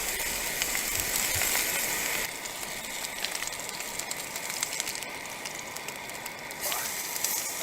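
Meat sears in a hot pan at a sub-zero winter campsite, giving a steady broadband sizzle and hiss with small pops. The sizzle dips partway through and then swells again, with no voices.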